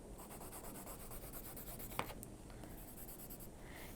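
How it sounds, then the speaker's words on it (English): A colored pencil scratches quickly up and down across paper in a steady rhythm, close and quiet, with one small tap partway through. "I like to go up and down like this with my pencil."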